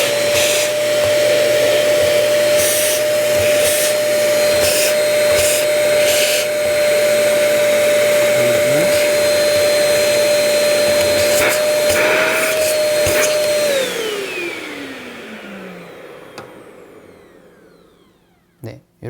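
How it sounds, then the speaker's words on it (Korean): A vacuum cleaner sucking loose coffee grounds out of a coffee grinder's chamber drones loudly and steadily with a high whine, broken by brief rattles, then winds down as the motor is switched off. "안쪽에 있는 보이는 가루들을 청소기로 빨아들여 주시면 돼요"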